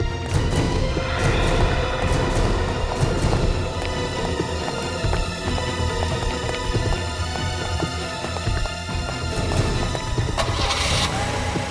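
Cars start up and pull away in a tense chase scene from the CID crime drama, engines rumbling and revving continuously with scattered clatter and a burst of noise near the end.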